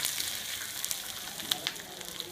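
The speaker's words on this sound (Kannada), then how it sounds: "ಎಣ್ಣೆ ಕಾದ್ಮೇಲೆ ಸಾಸಿವೆ ಕಾಳು ಹಾಕಿ, ಪಟ್ಟೆ ಪಟ್ಟೆ ಆದಮೇಲೆ ಉದ್ದಿನ ಬೇಳೆ ಹೊಂಬಣ್ಣಕ್ಕೆ ಬರಲಿ." Mustard seeds splutter in hot oil for a radish salad tempering, a steady hiss broken by sharp, scattered pops that crack close and bright over a couple of seconds.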